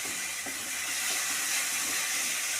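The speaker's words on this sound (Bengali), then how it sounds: "এই যে টমেটো বাটাটা দিয়ে দিলাম," Tomato paste hits a hot pan while making egg curry, giving a brief, even hiss of steady sizzling, close by and uninterrupted.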